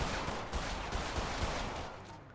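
Rapid gunfire in the video game GTA 5 RP, a dense burst of repeated shots rattling continuously for a couple of seconds, loud and sustained with no talking over it.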